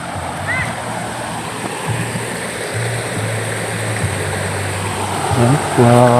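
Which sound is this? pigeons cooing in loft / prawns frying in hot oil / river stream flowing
river stream flowing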